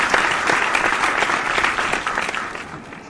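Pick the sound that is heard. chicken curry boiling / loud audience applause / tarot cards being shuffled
loud audience applause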